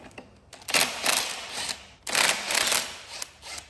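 A 1/2 inch wrench ratcheting as a bolt is snugged down on a mini dirt bike, two close bursts of rapid metallic clicking separated by a short pause.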